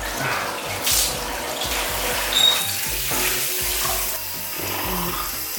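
Water running steadily from a tap at home during a hair wash, a continuous close splashing hiss with a few louder surges.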